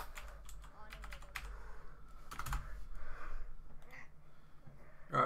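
Quick bursts of keystrokes on a computer keyboard, played during a Pokémon card game livestream, come in short clusters with pauses, close and moderately loud, with breathing and background room noise.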